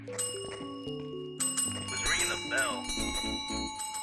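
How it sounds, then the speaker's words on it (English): In the Phasmophobia video game, a gong-like metallic tone rings out and lingers, its bright shimmering overtones layered with other game sounds and ringing bell-like effects, while voices talk over it. "I heard like what sounded like a gong"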